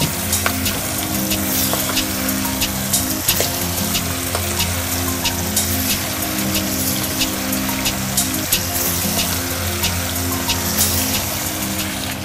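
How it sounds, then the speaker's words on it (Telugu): Sandhuvai fish pieces fry in hot oil, giving a continuous loud crackling sizzle with scattered sharp pops, a steady low hum running beneath it. "ఆయిల్ వేడైంది, ఇప్పుడు పీసులు వేయాలండి."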